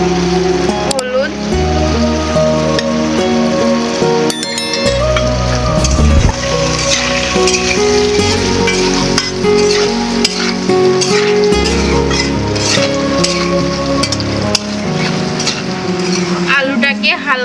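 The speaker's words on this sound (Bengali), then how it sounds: "আলুগুলোকে হালকা করে ভেজে নিতে হবে।" Potatoes fry in oil with salt and turmeric, a steady sizzle running beneath loud background music for the whole stretch.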